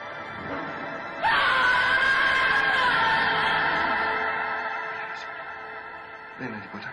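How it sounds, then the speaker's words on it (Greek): Someone shouts outdoors in a film scene, a loud sustained scream that holds for several seconds, then fades before a second brief cry near the end. "Κάποιος φωνάζει."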